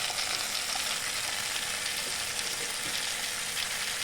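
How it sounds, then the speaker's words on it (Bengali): Cumin seeds tempering in hot oil for a Bengali egg curry, giving a dense, even hiss of sizzling that holds steady and close without pause or voices. "তারপর সাথে জিরে ফোড়ন।"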